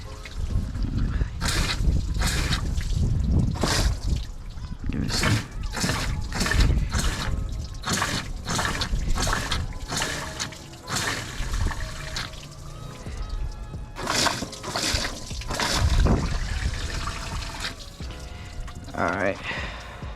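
Water is forced in repeated gushing bursts through a clogged heater core on a BMW 3 Series E9x, splashing and pouring with short pauses between surges, with some talking around it.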